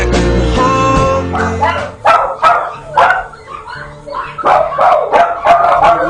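Dogs from a puppy mill bark, yip and whimper in a loud, crowded chorus, with several overlapping sharp barks and whines throughout.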